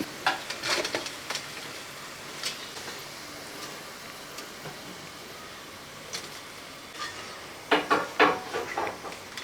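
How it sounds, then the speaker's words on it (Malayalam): Onion, cashews, raisins and curry leaves fried in oil for prawn biryani, heard as a soft sizzle with irregular sharp clicks and scrapes of a utensil scooping them out, busiest near the end. "സവോള അണ്ടിപ്പരിപ്പ് മുന്തിരിങ്ങയും കരിയേപ്പല എല്ലാം ഒരേപോലെ തന്നെ കരിഞ്ഞു പോകാതെ ഇതേപോലെ നല്ല ഫ്രൈ ആക്കി എടുത്തിട്ടുണ്ട്"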